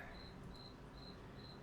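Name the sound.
crickets chirping in a basement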